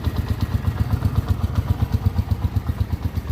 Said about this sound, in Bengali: গাড়ি স্টার্ট আপনারা কি শুনতে পাইতেছেন?